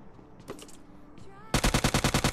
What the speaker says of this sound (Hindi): पास में ही कहीं से ऊजी का साउंड आ रहा है।